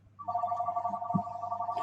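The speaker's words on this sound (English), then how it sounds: "Sorry about the phone. I don't know who's calling me," A telephone rings steadily in a room, a continuous electronic-sounding tone at moderate level with a brief low thump partway through.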